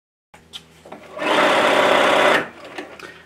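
A sewing machine stitches fabric in one loud, steady burst of rapid whirring lasting about a second, with faint handling sounds before and after.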